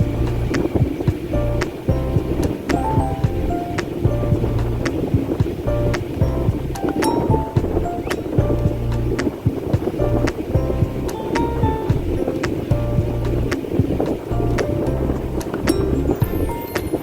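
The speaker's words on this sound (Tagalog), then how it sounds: "Fisherman's boat." Fishermen's boat on the sea off Vrsar, Istria, Croatia: a steady, close engine drone with lapping water and wind buffeting the microphone, a continuous rumble with no talk.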